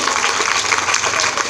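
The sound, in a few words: applause for the Prime Minister's birthday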